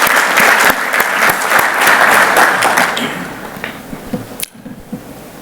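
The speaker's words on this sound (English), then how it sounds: "Can we give a round of applause?" Audience applause for a minister at a breakfast meeting, dense and loud clapping that fades after a few seconds and cuts off abruptly, leaving scattered claps.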